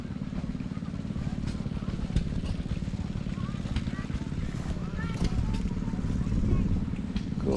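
A homemade tractor engine runs steadily at a tractor show in Ellison Bay, Wisconsin, with a dense, continuous low chugging throughout and people talking nearby over it.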